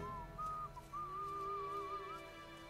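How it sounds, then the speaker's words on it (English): In the video game Mafia: Definitive Edition, a character whistles a wandering, lilting tune to himself. The whistle is clear and mid-distance, sustained across several long notes over a low background hum. "He's having a good wee whistle to himself."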